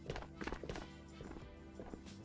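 Footsteps thud and clatter in Ghosts of Tabor, a quick cluster of heavy steps up close that then thins into lighter, more scattered treads under a low background hum.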